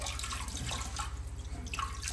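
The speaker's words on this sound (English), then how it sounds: "you want to soak the water out of the tank until the tank is mostly" Water drips and trickles inside a wall-hung toilet tank as it is emptied with a bucket, small splashes close by over a steady wet background.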